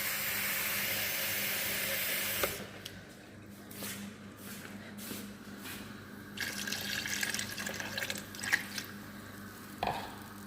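Water poured from a tap into a cooking pot while making Arabic muchibus chicken: a steady stream for a couple of seconds, then quieter trickles, drips and small clinks nearby.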